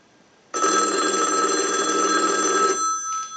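A loud electromechanical payphone bell rings continuously for about two seconds during a ring cycle, then stops, followed by a brief fainter ring.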